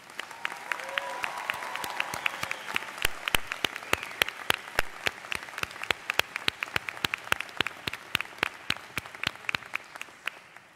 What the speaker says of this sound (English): will you please join me in a round of applause to recognize the Hood faculty and staff